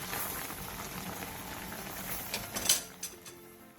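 Radish simmering in a covered pot for a Korean side dish, a steady soft bubbling hiss throughout with a few light clinks of a lid or utensil near the end.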